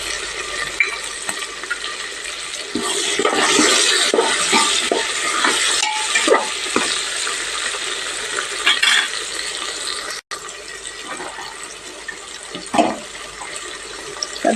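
Carrots tossed into a hot pan for undhiyu, a loud rushing sizzle that swells after the drop, with stirring scrapes and a brief cut before the frying carries on.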